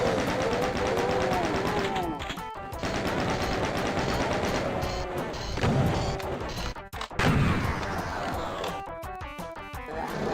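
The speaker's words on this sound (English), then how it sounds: "Several chain gunners. Thankfully, chain gunners that can't aim." Chaingunners firing in DOOM: The Plutonia Experiment, heard as dense, continuous rapid gunfire bursts with blasts and crashes, loud and close, mixed with game music and effects throughout.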